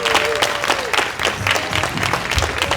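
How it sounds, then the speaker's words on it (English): Audience applause rises at a volunteer awards banquet as volunteer Lisa Lee is welcomed up: steady, dense clapping that fills the room without pause and carries a faint sustained tone beneath it. "Please give her a round of applause"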